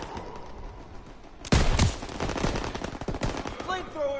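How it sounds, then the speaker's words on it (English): Loud machine gun fire in the Call of Duty WWII video game, a sudden sustained burst of rapid shots following quieter battle noise, with a voice briefly heard near the end. "MGs, open fire! Keep them off that bridge."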